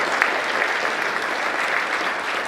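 Steady applause from an audience at a boys basketball tournament awards ceremony, a dense even wash of clapping from many hands, loud and continuous throughout.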